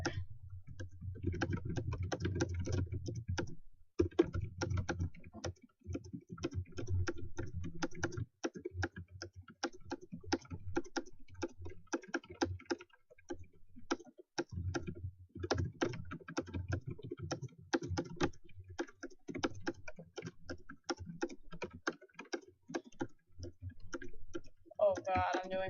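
Rapid keyboard typing during a speed typing test, a dense steady stream of key clicks with brief pauses, heard close up while a person talks over much of it.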